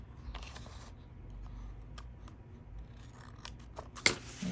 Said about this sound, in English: I'll just trim the edge.